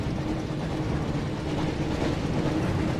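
Steady, loud rumble of a train running through a tunnel in the Harry Potter PS1 video game, a continuous dense roar with no breaks and no talk.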